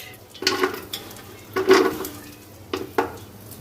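Whole garam masala and raisins are stirred in hot ghee and oil in a cooking pot, with three or four separate bursts of scraping and sizzling from the spoon against the metal and a quiet gap between each burst.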